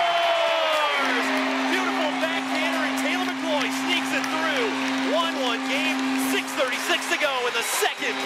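A hockey arena crowd cheers and whoops loudly and steadily for several seconds after a tying goal, a sustained wash of voices with scattered shouts.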